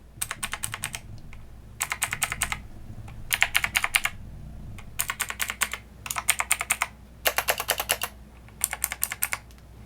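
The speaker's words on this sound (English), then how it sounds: "So this is the Logitech keyboard" Rapid typing on a Logitech computer keyboard in several bursts separated by short pauses, the keys clacking crisply at moderate loudness over a low background hum.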